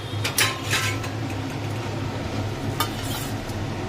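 Sattu paratha fries in a pan, making a continuous close sizzle with a few light utensil clinks and scrapes early on and again near the end.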